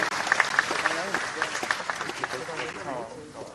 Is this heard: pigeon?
no